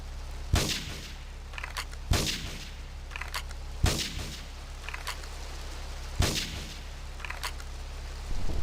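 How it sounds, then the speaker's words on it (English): Gunfire and explosions from the video game GTA 3 in Portland Harbor: five sharp, loud blasts spaced a couple of seconds apart, each with a short decaying tail, over a low steady game hum. "Portland Harbor investigate reported gunfire and explosion."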